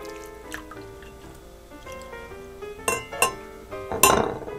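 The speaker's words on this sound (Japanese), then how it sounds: "ドリップコーヒーを注いで" Drip coffee poured into a glass while making Russian coffee with vodka, with soft trickling and several bright clinks of glass and utensils growing louder toward the end, heard alone.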